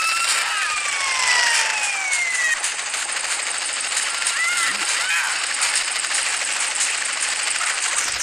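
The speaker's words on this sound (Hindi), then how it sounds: "वाह यार स्कूटर चलाते हैं अभी" Scooter engine in GTA San Andreas played on a phone, a steady buzzing motor drone running throughout with a few high tonal sweeps and clatters layered over it.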